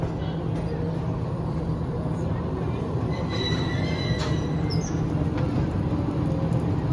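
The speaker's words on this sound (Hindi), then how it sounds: "खैर ट्रेन के क्रॉस के लिए तो मैं यहीं पे रुका हुआ हूँ" A train on a Pakistan railway line rolls past at a station with a steady heavy rumble of wheels and carriages, a few faint high metallic squeals over the top, close and continuous.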